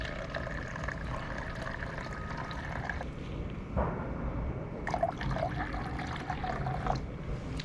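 Two-part wood bleach is poured into mixing cups during restoration work on a 1957 Chris Craft boat. The liquid makes a soft, close trickling pour with small clinks and pauses, and there is no talk.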